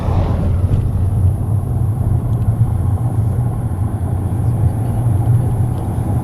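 Steady low car engine drone and road rumble inside a vehicle rounding a corner on a mountain road near Lake Sevan, continuous and fairly loud with no voices.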